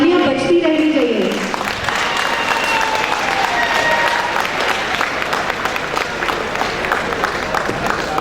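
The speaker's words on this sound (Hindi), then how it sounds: "तालियां बजती रहनी चाहिए" A hall audience at a Himachal Pradesh University cultural evening in 2011 keeps up loud, dense applause that fills the whole stretch, after a short burst of amplified speech at the start.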